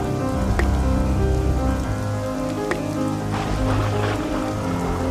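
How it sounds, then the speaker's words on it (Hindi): Heavy storm rain pouring down and drumming on a surface, a dense, steady hiss with scattered louder drips and splashes, close by and continuous, no voices. "अभी तक बारिश नहीं रुकी।"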